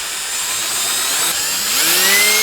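A power drill whines steadily as it bores into a car body panel during a Lamborghini rebuild, its pitch rising and holding high toward the end, loud and close with no talking.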